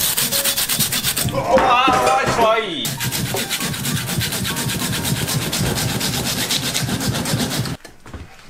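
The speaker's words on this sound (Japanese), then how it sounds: "まずは尻尾を切り落としていきます。 もちろんノコギリ。" A handsaw cuts through the tail of a 200 kg shark, a loud rhythmic rasping of repeated strokes, close up, with a brief startled voice early on and a sudden stop near the end.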